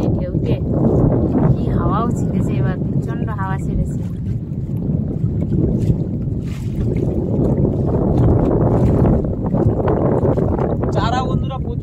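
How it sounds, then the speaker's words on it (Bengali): Strong wind gusts buffet the scene on a Sundarbans river, with a continuous loud roar of wind and water around a boat. People talk throughout over the noise. "এবার প্রচণ্ড হাওয়া ছিঁড়েছে।"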